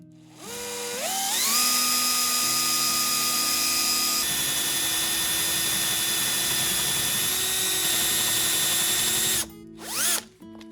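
A power drill whines steadily at high speed for several seconds while drilling holes in a bed frame, loud and close, then cuts off and briefly revs again near the end.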